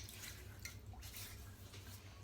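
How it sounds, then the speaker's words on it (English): Water splashes and drips softly at a sink as a face is wetted before shaving, quiet and close with no talking. "I'm just going to wet my face."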